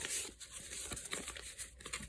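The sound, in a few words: shuffling partner cards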